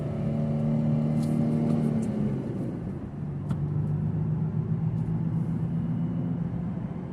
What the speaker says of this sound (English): We're going in first gear on the freeway now.